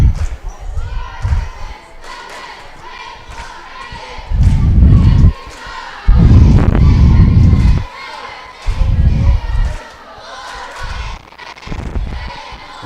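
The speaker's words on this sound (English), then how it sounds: "I don't know how much you can hear this the crowd noise in the gym, but the cheerleaders, it sure does sound good" Crowd noise and cheerleaders chanting in a school gym during a Richland Raiders versus Hampshire Hawks basketball game timeout, loud rhythmic bursts of shouting and chanting swelling and falling over a constant hubbub.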